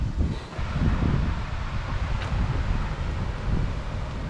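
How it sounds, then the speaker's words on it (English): Steady wind buffets the microphone at a campsite on the Columbia River, a constant low rumble and rush that swells and eases slightly throughout, with no voices. "it's so windy out here"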